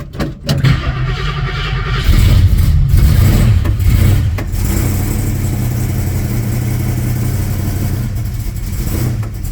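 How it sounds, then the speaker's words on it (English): A 1968 Mercury Cougar with a Cleveland engine that has sat for three weeks cranks briefly, catches and then settles into a loud, rough, steady idle close by, with no talking. "let's see if this garbage will start after sitting for 3 weeks."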